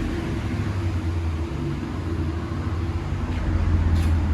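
A Chevy Silverado with a 5.3L V8 and aftermarket exhaust with black tips idling, a steady low rumble with a constant drone and a slight swell near the end, close and with no talking.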